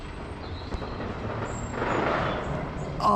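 The Detonator drop tower ride at Thorpe Park gives a loud, steady rushing hiss of air that swells midway through, with a faint mechanical rumble beneath and no talking.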